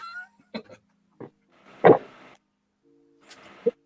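An indoor cat gives a few short, scattered meows and chirps in a quiet room, with one louder, rougher call in the middle.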